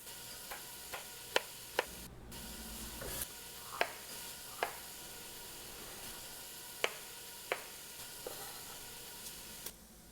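Bacon fat renders in a pan as BBQ beans are cooked, giving a faint, steady sizzle with scattered sharp pops and ticks at irregular intervals.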